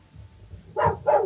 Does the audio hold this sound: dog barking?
yes